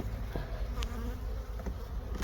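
Honeybees working a Dadant hive during a colony inspection make a continuous, even buzzing drone, soft and close, with no voices over it.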